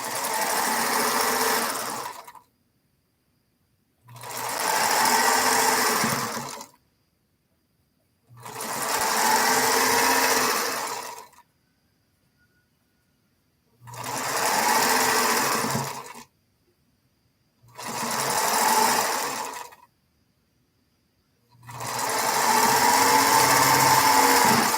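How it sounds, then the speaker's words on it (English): A sewing machine stitches quilt blocks together in six loud, steady bursts of a few seconds each, separated by short silences. "Got this one sewed together."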